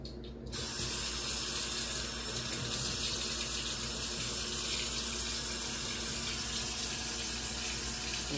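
Tap water runs steadily to fill a teaspoon, a constant hissing stream starting just after a brief quiet moment and continuing without pause.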